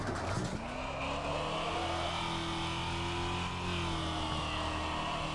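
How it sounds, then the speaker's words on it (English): A smooth, whining electric muscle car engine in the video game Wreckfest revs and holds a rising tone, a synthetic-sounding motor droning steadily at moderate volume. "I feel like this is what electric muscle cars are going to sound like in the future"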